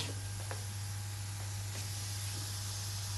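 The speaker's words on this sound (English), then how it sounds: "Now we need to switch on the compressor" An air compressor on a pneumatic trainer kit runs with a steady low hum and a continuous airy hiss, with a few faint clicks over the constant drone.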